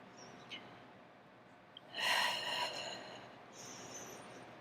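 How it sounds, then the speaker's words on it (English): Someone doing a Pilates exercise at the wall lets out one clear breath, a soft airy rush lasting about a second, after a few faint small sounds in a quiet room. "Exhale to go forward, inhale to go back."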